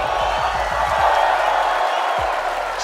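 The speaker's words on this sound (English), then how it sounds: "Can you give me a cheer for my friend Levin2K" Large arena crowd at the Royal Arena in Copenhagen during a Fortnite championship, a loud sustained roar of cheering and whooping from thousands of fans, dipping briefly near the end.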